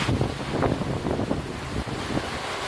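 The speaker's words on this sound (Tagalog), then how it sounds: "Malakas na ulan at hangin ang naranasan sa ilang bahagi ng Lawag, Ilocos Norte." Strong wind and rain from a storm in Laoag, Ilocos Norte, a loud, continuous roaring rush with gusty buffeting against the microphone and no voices.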